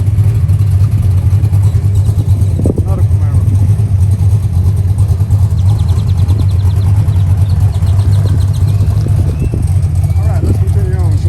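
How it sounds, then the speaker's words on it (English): Big engine of a Chevrolet Camaro rumbles loud and close at a car show, a deep continuous idle with occasional throttle blips, while people talk over it. "Them sounds get my attention real quick, especially one with them big engines in them."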